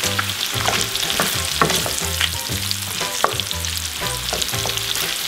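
Mushrooms frying in a pan for a classic carbonara, a steady dense sizzle broken by repeated scraping stir strokes at a regular rhythm, close and moderately loud with no talking.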